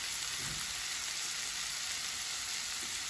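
Brussels sprouts and ham with black pepper sautéing in a pan, a steady close hiss and crackle of frying, with a faint stir or two and no voices.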